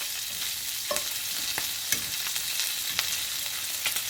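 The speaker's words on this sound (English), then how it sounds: "Okay, our bacon is cooking nicely." Bacon frying in a pan makes a steady bright sizzle with scattered pops and crackles, close and continuous, with no voices.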